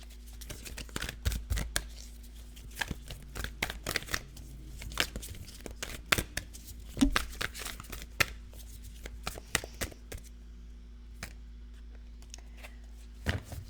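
Animal spirit oracle cards are shuffled by hand in soft, quick bursts of riffling and flicking, faint and close, with brief pauses between runs and no speech.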